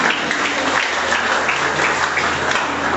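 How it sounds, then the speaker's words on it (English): An audience at a school debate between Comprehensive and St. Michael's College claps steadily, a dense, even wash of many hands close and loud throughout, with no break and no talking. "Please clap for him once again."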